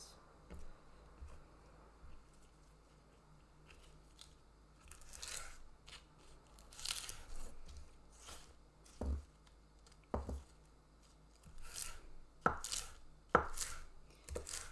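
Crisp lettuce leaves handled in a kitchen while cooking vegetarian taco fillings, giving sharp intermittent snaps and crunchy crackles at irregular intervals, close and fairly quiet with no talk.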